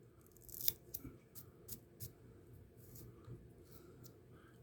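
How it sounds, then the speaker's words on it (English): Scissors snip through spun deer belly hair on a fly-tying hook, a few quiet, close cuts spaced irregularly over a soft background rustle. "you want to trim into a square"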